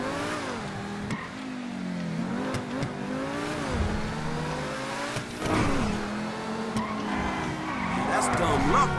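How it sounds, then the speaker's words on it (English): A car drifts in GTA 5, tyres squealing in long wavering tones under a steady engine drone, with short bursts of revving and screeching throughout. "Okay, that was some scary drift."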